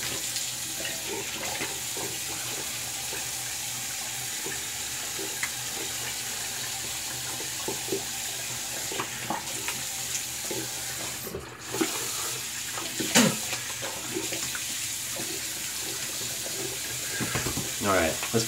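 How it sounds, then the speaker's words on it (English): A bathroom tap runs steadily while shaving gear, including a brush, is rinsed under it, a continuous broad hiss with small splashes and clinks throughout. "let's get that rinsed off now"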